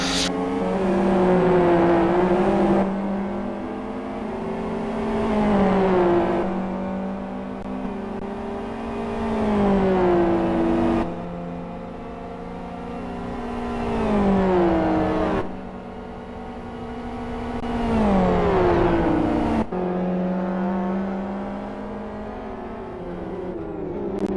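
Super GT race cars, including a GT500 class car, roar around a circuit during a main race, engines rising and falling in repeated loud revving sweeps as they pass and brake into corners.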